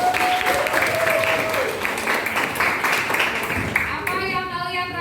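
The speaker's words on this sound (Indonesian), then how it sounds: "Tepuk tangan untuk kita semua." A class of students applauds together, dense steady clapping running for several seconds with voices mixed in, then tapering off near the end.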